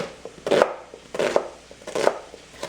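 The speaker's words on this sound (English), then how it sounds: "we're going to chop this in kind of big chunks" A kitchen knife chops food into big chunks for guacamole on a cutting board, four crisp, separate strikes spaced about half a second to a second apart, close and fairly quiet, with no voices.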